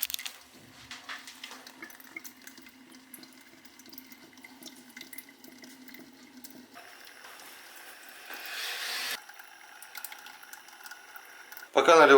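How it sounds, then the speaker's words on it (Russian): Raw tap water runs quietly through a flow-through drinking filter into a jar, the pitch of the stream shifting as it fills, with faint background noise. "ставлю под проточный фильтр для питья и просто заливаю сырой водой"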